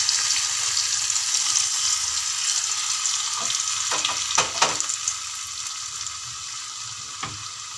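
Ginger cut into long strips sizzles in a hot pan with turmeric and spices. A steady, bright frying hiss runs throughout, with a few close stirring clicks and scrapes in the middle and near the end.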